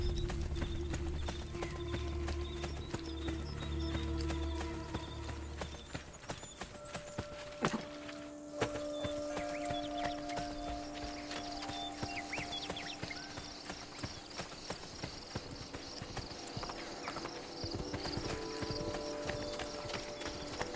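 Horse hooves clip-clop steadily in the Assassin's Creed Brotherhood video game, a continuous rhythmic trot heard close, with low game music and ambient tones underneath and a brief whinny.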